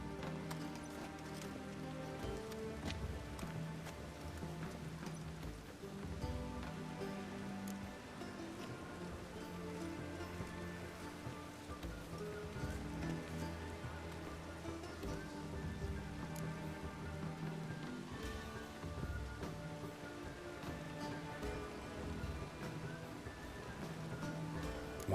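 Steady rain falling on the city streets of The Witcher 3, a continuous hiss layered with music and occasional hoof clip-clops, with no talking.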